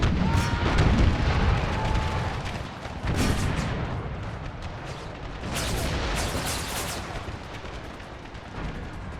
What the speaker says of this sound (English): Howitzers fire on the infantry that are the closest here.